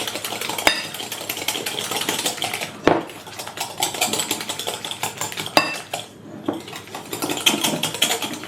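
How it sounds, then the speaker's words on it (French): A spoon stirs carrot cake batter with brown sugar in a bowl, a continuous close scraping and clinking of utensil against the bowl with a few sharper knocks. "Et là on remue jusqu'à ce que le mélange devienne mousseux."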